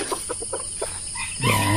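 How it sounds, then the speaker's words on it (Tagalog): Several chickens cluck in short, repeated bursts at close range, and a louder call closes the sequence. "Ang ingay ng mga manok dito mga kensik."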